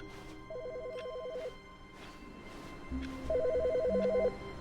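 Two bursts of a trilling electronic telephone ring in the video game The Stanley Parable, each about a second long, heard over a low ambient hum with a pause between them.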